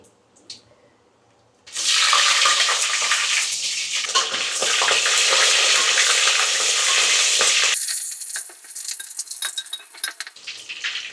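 Cumin, dried red chillies and chopped green chillies hit hot oil with a sudden loud sizzle that holds steady for several seconds, then thins into crackling spits and a few utensil clinks as it settles, with no talking.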